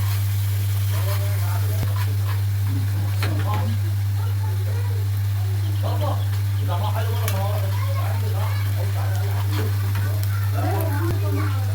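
Molokhia sizzling in a pot, a steady close frying hiss with a constant low electrical hum underneath, while someone talks over it.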